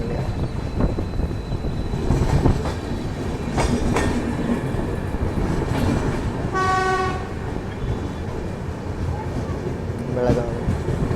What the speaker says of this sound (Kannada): ಹತ್ತು ನಿಮಿಷ ಡಿಲೇ ಆಗಿ ನಾವು ಎಂಟ್ರ್ ಆಗಿಬಿಟ್ಟಿವ್ರಿ ಈಗ ಬೆಳಗಾವಿ ರೈಲ್ವೆ ಸ್ಟೇಷನ್ಗೆ.